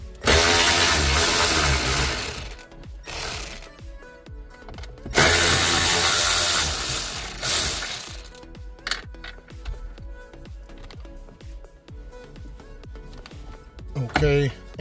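A power tool removes 8mm trim bolts on a Hyundai Sonata, running in two long, loud, close whirring bursts, followed by quieter clicks and handling noise, with some talk mixed in.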